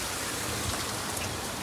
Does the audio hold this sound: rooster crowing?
no